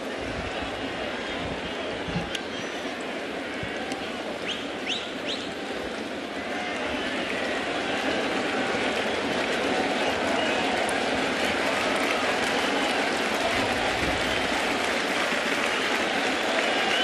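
The crowd at Yankee Stadium murmurs and cheers during a Twins–Yankees baseball game, a broad wash of sound building louder midway and holding steady, with a commentator talking over it.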